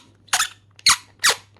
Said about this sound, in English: That's a very squeaky noise.